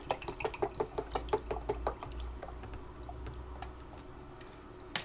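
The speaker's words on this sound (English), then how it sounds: "Let's get some water into this." Water trickles and splashes into a drink pouch from a Polish MRE, a run of quick, close pouring blips in the first couple of seconds that settle into quieter background noise.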